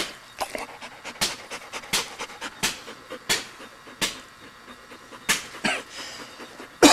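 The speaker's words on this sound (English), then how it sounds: "He's a pretty good dog." A hunting dog pants hard and rhythmically close by during a wild boar hunt in Hawaii, with quick regular breaths and occasional louder huffs, no talking.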